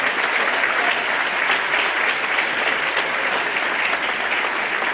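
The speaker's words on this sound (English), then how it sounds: "if you wouldn't mind giving me a round of applause for all of those volunteers" A large audience claps continuously, a dense and even wash of applause from start to finish.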